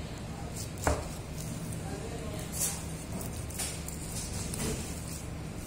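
A knife chops through beef leg meat during butchering, with one sharp cut standing out near the start, a few softer cuts after it, and a steady low background hum throughout.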